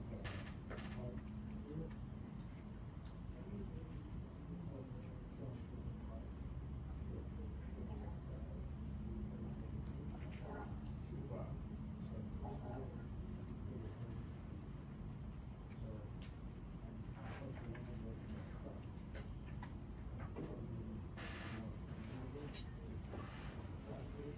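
Truck engine revving steadily under load while the air brake compressor builds pressure, then the governor cuts out with an air purge, a continuous loud low drone with faint hisses near the end.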